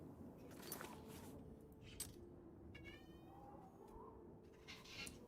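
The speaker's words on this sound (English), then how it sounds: "I also happen to have a very talkative cat." A talkative house cat meows several times in a row, with drawn-out, wavering calls rising and falling over a steady low background hum, close and moderately loud.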